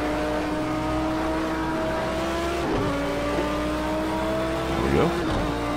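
A Monster Energy Mustang race car in a racing video game, running in a Dubai 24-hour multi-class race, drones with a steady, continuous engine note that dips briefly in pitch a couple of times as it shifts or lifts.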